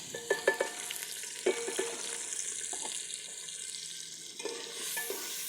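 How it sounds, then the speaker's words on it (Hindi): Chopped ingredients for a potato and lentil curry fry in a pan with a steady sizzle, broken by a few sharp clinks and stirring knocks, close and moderately loud with no talking. "इसे अच्छे तरीके से फ्राई करेंगे"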